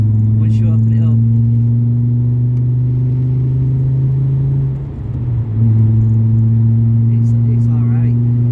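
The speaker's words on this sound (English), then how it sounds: "It's nice when you get it full throttle, and then when you downshift, you get popping." A VW Beetle with a 2.3 V5 engine pulls at full throttle with a loud, steady, droning engine note. The note dips briefly during a gear change and then climbs again, with a voice faintly heard at times.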